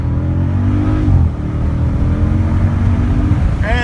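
A Jeep Grand Cherokee SRT Trackhawk accelerating hard from 0 to 60, a loud sustained engine roar climbing in pitch, dipping briefly at a gear change, then pulling on strongly.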